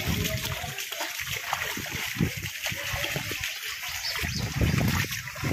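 Children splash about in floodwater after torrential rain, with loud, irregular splashes and sloshing over a running-water wash that carries on throughout.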